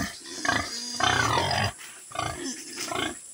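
A pig grunts and squeals in several rough bursts, the middle one longer and louder, with short quiet gaps between them.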